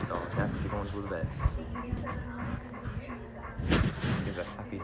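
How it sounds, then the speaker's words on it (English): A dog at the vet, with yips, soft whimpers and short barks scattered among steady nearby talking. "Oh, this dog is a happy dog."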